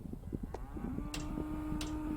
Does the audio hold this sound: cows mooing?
yes